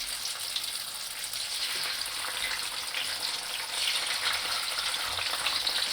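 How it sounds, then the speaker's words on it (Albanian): Peppers fry fast in hot oil in a pan, giving a steady, close sizzling hiss that holds evenly for the whole stretch and swells slightly toward the end. "Ta rreshkim shpejt e shpejt."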